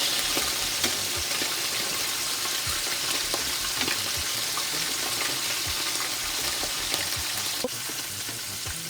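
Lane snapper and parrot fish fry in a pan of hot oil on a stove, with a continuous close sizzle and bubbling and occasional sharp pops and crackles throughout.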